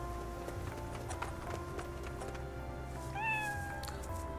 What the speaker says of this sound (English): Oh, it meowed!